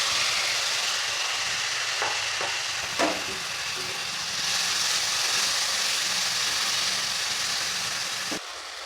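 Tomatoes frying in a pan with salt and turmeric make a steady, close sizzle, broken by a few brief stirring scrapes and a soft clink near the end.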